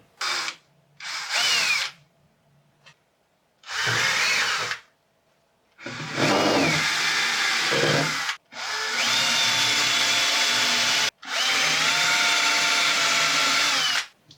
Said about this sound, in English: I finished drilling all the holes